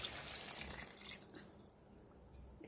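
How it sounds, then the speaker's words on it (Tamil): Water pours from a pot into a chicken gravy seasoned with rock salt and coriander leaves, a steady, soft, close-up splashing trickle that continues without a break. "ஒரு சொம்பு தண்ணி ஊற்றிக்கலாம்."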